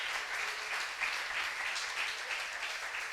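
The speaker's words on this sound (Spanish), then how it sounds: "si va a aplaudir, apláudale con gozo." A crowd applauds steadily and fairly loudly, a dense continuous wash of clapping that carries on without a break.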